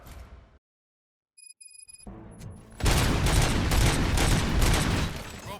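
Gunfire from the Robocop Rogue City video game follows a silent gap, then a loud, dense barrage of rapid shots and booms runs steadily to the end.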